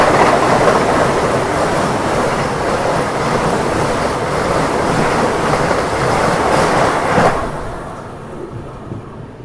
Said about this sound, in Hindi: अभी आ रही है हावड़ा गया वंदे भारत एक्सप्रेस की क्रॉसिंग